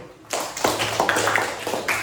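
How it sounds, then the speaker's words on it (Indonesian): Students in a classroom clap after a lesson, the scattered claps starting abruptly after a brief quiet and continuing as an uneven, fairly close patter with a few sharp individual claps standing out. "Tepuk tangan dulu"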